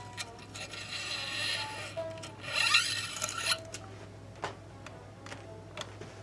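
Truss rod being tightened on a Mexican-made Fender Jaguar electric guitar, scraping and rasping metal-on-metal sounds with scattered ticks and clicks, strongest in the middle then thinning out, close and quiet.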